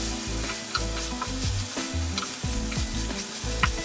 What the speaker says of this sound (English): Mix in the mushrooms, cooking about 3 or 4 minutes more.